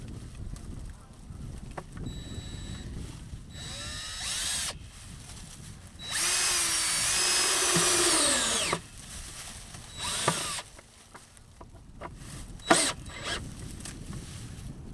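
A power drill drives a screw into a wooden duck house stand, several short whirring bursts and then one long sustained run of a few seconds, loud and close, with light clatter between.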